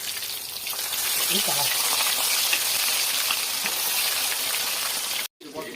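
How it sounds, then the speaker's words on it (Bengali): A steady, loud hiss of tilapia frying in hot oil in a pan, broad and continuous like heavy rain, cutting out abruptly near the end. "তেলটা গরম হয়ে গেছে, এবার এক এক করে মাছগুলো দিয়ে দেবো।"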